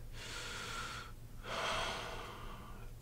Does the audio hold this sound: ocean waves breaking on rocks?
no